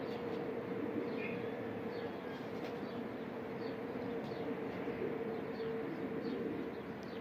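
Pigeons or doves coo softly in the distance over a steady low background hum, faint and continuous with no talking.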